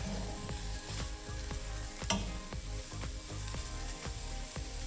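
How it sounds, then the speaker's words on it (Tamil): Onions sauté in a pan for a soya masala, a steady close sizzle with rhythmic scraping strokes of a spatula repeating about every half second. "வெங்காயம்லாம் நல்லா வதங்கணும்னு அவசியம் இல்லை, ஒரு அளவுக்கு வதங்கினா போதும்."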